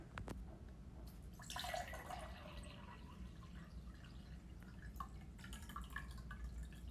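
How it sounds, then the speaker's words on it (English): Water trickles and drips faintly into a cup during a simple light-refraction demonstration, with soft splashes early on and quieter dribbles afterward, no voices. "I'm going to take some water and I'm going to fill this cup up"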